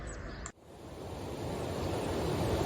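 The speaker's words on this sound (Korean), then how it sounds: "아침에 듣는 청량한 물소리는 순례자에게 비타민이에요" Flowing water heard in the morning along the Camino de Santiago pilgrim route in Spain: a steady broadband rush like a stream, with a brief dip near the start before the rushing swells and continues evenly.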